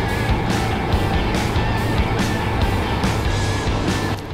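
Race car in a racing video game pulling out of the pit lane during an endurance event, engine droning steadily and loudly with a continuous broadband roar throughout, no voices.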